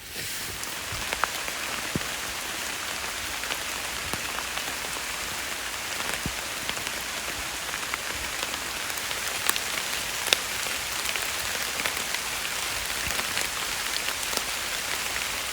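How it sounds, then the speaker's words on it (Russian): Heavy rain pours down steadily in a dense, continuous hiss, with occasional louder drips and splashes standing out nearby. "Дождь там, кстати, льет. Все сильнее и сильнее, и уже прям практически как из ведра."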